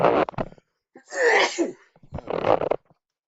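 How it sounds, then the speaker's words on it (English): A single close sneeze bursts out between short stretches of quiet breathing and movement, loud and abrupt. "Oh, I'm about to sneeze."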